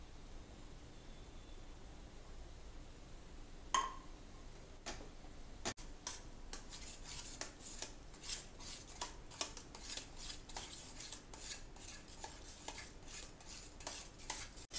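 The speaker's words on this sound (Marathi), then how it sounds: "दुधी भोपळा शिजलाय, आपण त्याच्यात व्हे प्रोटीनचं मिक्सचर टाकून ते सगळं एकजीव मिक्स करून घेऊया।" Cooked bottle gourd halwa is mixed with a whey protein mixture in a pan, heard as faint, rapid metallic ticks and scrapes of a spoon against the pan, beginning sparsely and becoming a steady, busy clatter.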